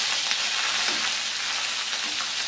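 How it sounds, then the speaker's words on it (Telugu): Garlic, dried red chillies and curry leaves fry in hot oil for a tempering, giving a dense, steady sizzle with faint crackles, close and fairly loud throughout. "ఈ తాలింపు అంతా కూడా బాగా వేగిపోయిన తర్వాత చూడండి పోపులన్నీ కూడా చక్కగా ఎర్రగా ఫ్రై అయినాయి కదా."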